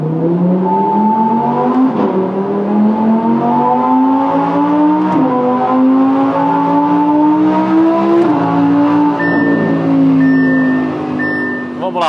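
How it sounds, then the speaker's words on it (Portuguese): Audi R8 V10 engine screaming at full throttle in fourth gear with traction control off and exhaust open, pitch climbing through long rising sweeps with brief gear-change dips, loud and close throughout. "já é o suficiente para fazer esse motor encher e berrar"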